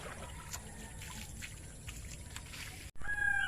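Water trickles and splashes steadily in a bathroom bath, a continuous wet pouring and dribbling that stops briefly near the end before resuming louder.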